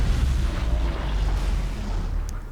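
An alien explodes in the sci-fi shooter Natural Selection 2, a loud, rumbling low-end blast that rolls on steadily for a couple of seconds, with no talk over it.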